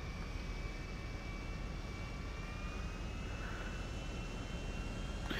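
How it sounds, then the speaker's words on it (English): A steady airplane engine roar in Grand Theft Auto V drones throughout, with a faint high whine rising slightly over time; no distinct breakdown sound stands out. "I think I just heard the engine break."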